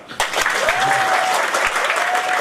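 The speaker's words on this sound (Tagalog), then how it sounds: "Kung gusto nyo makasama, lakasan nyo palakpak." Loud, dense clapping from an audience at a distributor business presentation in the Philippines, starting abruptly and holding steady throughout, with a faint whistle-like tone and scattered voices underneath.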